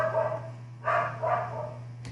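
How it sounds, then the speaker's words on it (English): A dog barks a few times in the background indoors, short muffled yips spaced about half a second apart over a low steady hum, with no one talking. "I'm sorry about the dog in the background"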